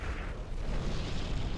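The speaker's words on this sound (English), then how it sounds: "Skynny opted for artillery fire onto the propaganda center" Artillery shells pounding a propaganda center in the China-versus-China real-time strategy game C&C Generals, a continuous dense rumble of low booms and blasts throughout with no gaps.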